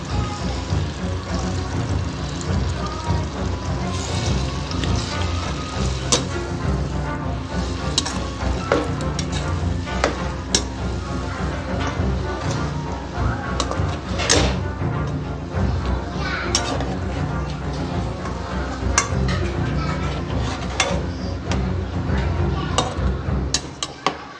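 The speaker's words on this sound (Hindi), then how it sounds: "अब हमारी जो ग्राइंड की हुई चिकन और जो प्याज है हम इसमें ऐड कर लेंगे" Lightly ground chicken and onion sizzle and fry in a pan for chicken haleem, with scraping stirs over a constant loud crackle and no voice.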